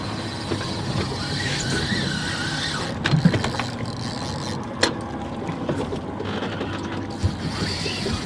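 A fishing reel's drag whines thinly as a jack crevalle runs during offshore wreck fishing off Palm Beach. The high whine is partly buried under a constant boat engine rumble and water noise, with a few sharp clicks and knocks.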